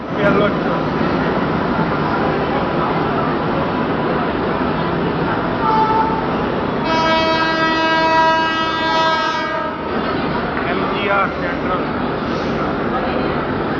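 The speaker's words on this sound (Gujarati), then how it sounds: "હાલો જો હવે અમારી ટ્રેન આવી ગઈ છે." A train horn blares for a few seconds over the steady rumble of a train rolling in, with people talking nearby throughout.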